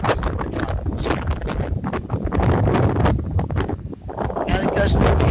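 Strong wind gusts from Tropical Storm Michael buffet the microphone in loud, rumbling surges that rise and fall over several seconds, briefly easing before building again.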